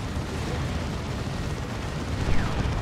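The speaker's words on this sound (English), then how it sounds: "Now they're shooting the Terminators." Units fire plasma guns and barrage weapons in a Space Marines versus Imperial battle in the Warhammer 40,000: Dawn of War 2 strategy game, a dense continuous rumble of distant shots and blasts, with a slightly louder burst near the end.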